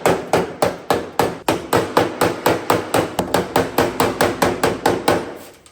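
Hammer strikes a woodblock used as a dolly against the body panel of a 1981 Dodge Challenger, about twenty sharp, evenly spaced knocks in a steady rhythm, close and loud with no talk.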